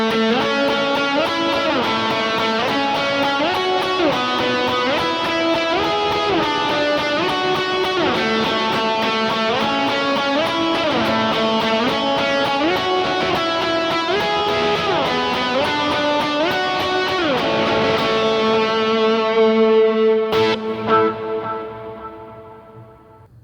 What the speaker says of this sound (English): Now you might even want to be a little bit more adventurous and play all 3 chord tones.